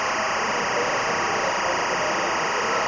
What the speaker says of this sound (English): each file will have a time code signal baked into each audio track